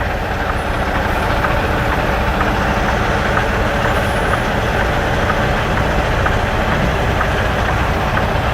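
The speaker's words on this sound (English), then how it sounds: "Man, his truck, listen to that clanking." A heavy truck engine idles loudly and steadily close by, a dense rumbling drone with a rough, clanking edge running the whole time.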